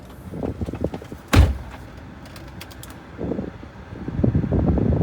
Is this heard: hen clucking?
no